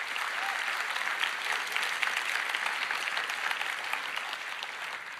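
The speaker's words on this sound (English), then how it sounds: "I would like to give them a round of applause for keeping the internet safe." An audience claps steadily, a dense, even wash of applause that holds its level and tapers slightly at the end.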